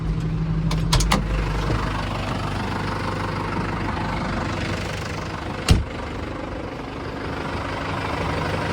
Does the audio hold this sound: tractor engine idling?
yes